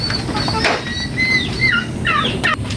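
Poultry at a farm makes a run of short clucking and gobbling calls, several birds close by, with rising and falling cries scattered over a rustling outdoor background.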